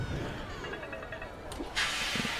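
A loud burst of hissing steam erupts near the end, sharp and sustained, following a stretch of noisy rumbling background, in the video game Stacking.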